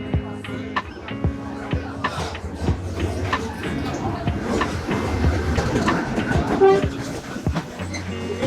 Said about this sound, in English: the train rushes past just inches away